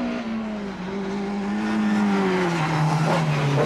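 A Toyota Starlet race car charges up a hillclimb course, its engine revving hard and shifting pitch as it passes close by, loud and continuous throughout.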